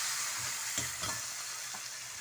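Marinated eggplant frying in a little oil in a kadai, a soft steady sizzle with a few light stirring knocks, quiet and close.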